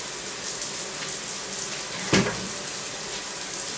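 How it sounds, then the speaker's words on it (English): Steady rush of running water from a home shower, a constant close hiss with one brief knock partway through and no voices. "I'm about to go take a shower"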